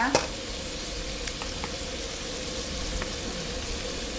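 Pork belly stir-fried in a wok, a steady low sizzle with occasional clinks of a utensil under someone talking.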